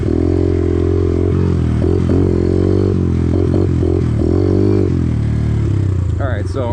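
Small Kawasaki KLX110 pit bike engine droning and revving steadily up close while riding a hill, with clattering and scraping bursts, and a voice speaking over it.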